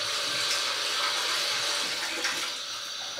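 Tap water runs steadily from a kitchen faucet while an apple is washed under it, a continuous close hiss and splash with slight variations as the fruit moves through the stream.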